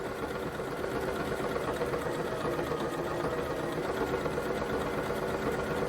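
A sewing machine stitches a decorative stretch buttonhole with a steady, close, continuous mechanical whir and rapid needle rattle throughout, no voices.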